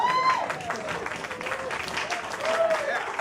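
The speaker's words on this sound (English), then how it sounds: "Applause." An audience at a stage play applauds in a steady patter of many hands clapping throughout the short stretch, with a voice speaking over it.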